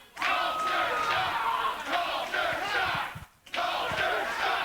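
Wrestling crowd at an ACW-NWA Wisconsin show cheering and roaring for the tag team Culture Shock, a loud, sustained mass of voices that dips briefly once and then surges again.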